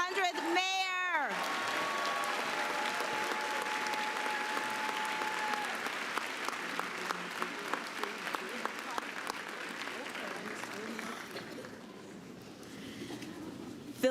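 A crowd at a college graduation ceremony claps loudly for Philadelphia's mayor, with a brief whoop at the start and a sustained wash of applause that thins slightly toward the end.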